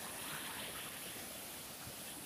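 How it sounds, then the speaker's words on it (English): Ocean waves wash onto a well-kept beach at Malpe in Udupi, making a steady broadband rush of surf and spray with no distinct breaks and no talk. "look at the waves."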